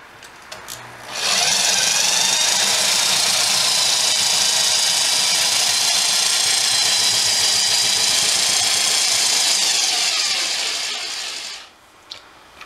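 A power drill drives a homemade barrel rifling machine cutting a pistol barrel, spinning up and whirring at a steady high pitch for about ten seconds, then winding down and stopping.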